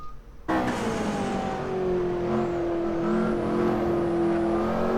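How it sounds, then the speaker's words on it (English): A McLaren P1 hypercar drives past at speed, its engine a loud sustained tone that climbs and holds after a sudden start, with a steady whirring high layer. "So next car up, we have the McLaren P1."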